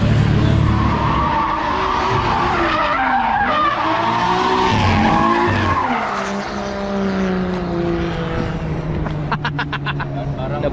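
A Nissan S13 240SX fitted with a 1JZ engine drifts, its tires squealing in a long, continuous skid over a roaring engine, with people talking nearby.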